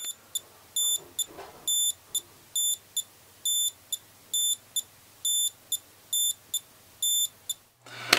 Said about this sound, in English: as far as the beeping goes when you get close in, it's really quiet